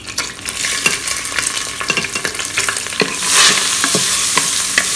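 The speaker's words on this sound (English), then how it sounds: "We'll stir fry this for approximately a minute or so just to get the flavor out." Ginger, shallots, minced garlic and rehydrated dried chillies stir-fried in a pot, a loud close sizzle with repeated scraping strokes of the stirring utensil and a surge of frying partway through.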